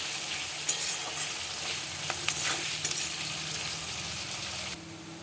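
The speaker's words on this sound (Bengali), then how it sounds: "পেঁয়াজটা ভাজা হয়ে গেছে" Onions fry in a pan with a bright, busy sizzle, joined by light scraping and stirring noises and a couple of small clinks, with no voices.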